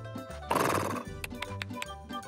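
A horse gives one loud, drawn-out whinny in a children's cartoon, rising abruptly and fading after about half a second, with light background music continuing around it.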